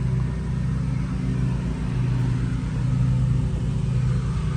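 A car engine idles steadily nearby, a constant low rumble with no revving and no pauses, beside an ARB air compressor and hose setup.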